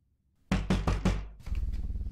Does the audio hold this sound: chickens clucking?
no